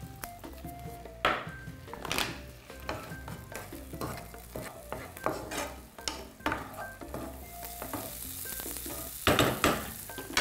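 Food frying in a pan while being stirred, close sizzling with scraping utensil strokes and clinks of the pan, irregular bursts over a steady hiss, no voices.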